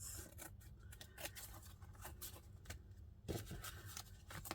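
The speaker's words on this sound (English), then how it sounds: "I'm just going to cut these up" Scissors snip through kooky handmade paper to cut journal tags, a faint run of quick crisp cuts and papery rustles close by.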